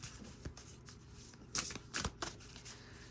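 Oracle cards are shuffled and pulled from the deck during a reading, giving soft riffling and flicking with a few sharper card snaps, close and quiet with no talk.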